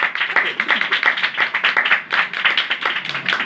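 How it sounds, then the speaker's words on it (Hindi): A church congregation at a Hindi-language worship service claps loudly in a fast, rhythmic beat that continues for several seconds, with voices mixed in. "एक बार जोरदार तालियां जिंदा खुदा के लिए।"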